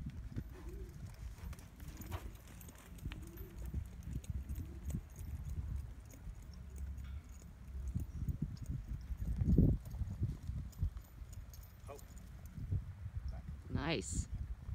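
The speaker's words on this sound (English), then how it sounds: "He's a good horse." A horse walks with a steady clip-clop of hooves close by, the rhythmic hoofbeats running throughout beneath people talking, with birds chirping faintly in the background.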